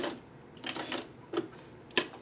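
A sewing machine back-stitches denim and muslin for a scrappy mosaic block in short, faint bursts of mechanical clatter separated by pauses, with a couple of sharper clicks near the end.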